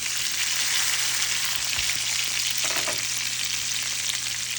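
Burger patty smashed on a hot griddle with mushrooms, onions and garlic, a loud steady sizzle with a couple of dull scrape and press thuds, no talking.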